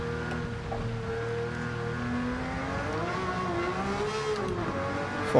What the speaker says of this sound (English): Oh, this car sounds incredible.